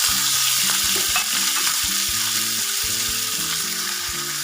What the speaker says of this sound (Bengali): তেল গরম হয়ে গেছে, প্রথমে আমি চিংড়ি মাছগুলো একটু ভেজে নেব।